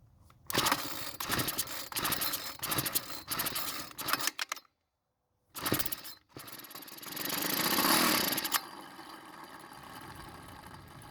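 A Troybilt 4-cycle string trimmer, primed with fuel in the carburetor throat, is pulled and sputters to life in short bursts, cuts out briefly, then revs and runs for a few seconds before stopping, close and fairly loud.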